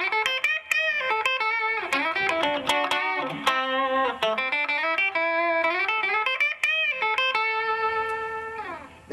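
A Parker electric guitar on its single-coil bridge pickup gives a bright Telecaster-style twang with extra treble and reverb, plucked notes ringing out in melodic phrases and chords, played alone and fairly loud.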